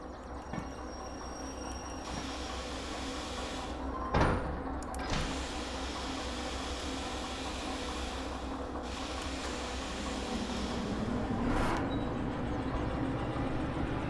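An unrepaired locomotive in the Derail Valley train game rattles and drones loudly and continuously, with a few sharp clanks and whooshing shifts in the steady mechanical racket.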